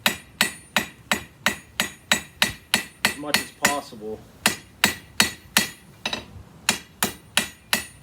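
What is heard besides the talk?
blacksmith hammer drawing out and smoothing iron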